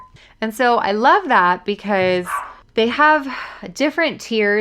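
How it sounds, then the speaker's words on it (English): A dog barks repeatedly in the background under continuous, prominent speech, with a few sharp yips that are partly masked by the talking. "if you could hear my dog barking in the background"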